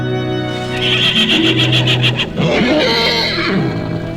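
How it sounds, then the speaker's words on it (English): A frightened horse lets out a loud, close whinny, a long quavering neigh followed by a second rising cry, with no talking. "when a horse is frightened and beaten, he can't help but act up and get in terrible trouble"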